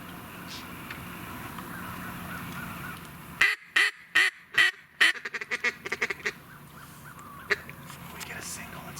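Wild ducks in a flock call in a quick burst of loud, rhythmic quacks close by, trailing off into scattered fainter calls over a quiet marsh background during a hunt.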